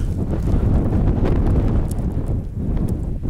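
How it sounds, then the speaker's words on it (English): Strong wind buffets the microphone high on a snowy Scottish winter mountain, a loud, continuous low roar with gusty fluctuations and no voices. "Oh, there's a wind. There's a wind."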